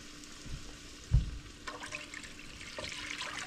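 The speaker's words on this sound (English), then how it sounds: "To the pot, I'm adding about 4 cups of water" Water poured into a cooking pot for a Spam ramen stir fry, a soft steady stream and trickle with a dull thump near the start, close and fairly quiet.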